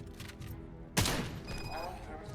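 A single shotgun blast in the video game RoboCop: Rogue City, a sharp loud boom with a decaying tail, set against quiet game ambience and faint tonal sounds afterward.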